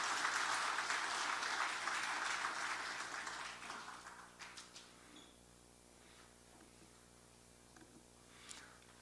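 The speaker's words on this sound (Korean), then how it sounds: "다시 한번 박수해 주시고 인사하시고 들어가시기 바랍니다" Audience clapping at a Christmas church service fills the start, then tapers off into scattered claps and quiet room tone, heard from a distance.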